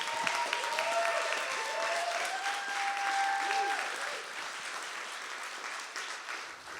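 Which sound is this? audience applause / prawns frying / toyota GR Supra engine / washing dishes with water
audience applause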